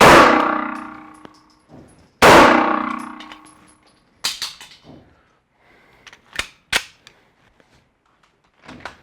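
Gunfire at a shooting range: two loud, sharp shots with long ringing decay, followed by several quieter cracks and metallic clinks spread unevenly over the rest, with no talking.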